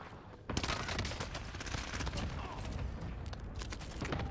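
Fairly faint, rapid gunfire from the video game Warzone crackles in quick successive shots throughout, with distant game noise behind it.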